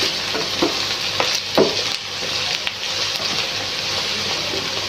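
Sliced okra and onion fry in a pan with a steady, close sizzle, broken by a few scraping stirs of a spoon, with no talking.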